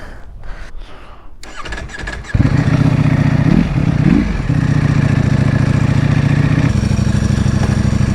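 A Ducati Panigale V4 SP starts up after some clatter and handling noises, then settles into a loud, close, steady engine drone with a couple of quick rev rises and a slight shift in tone toward the end.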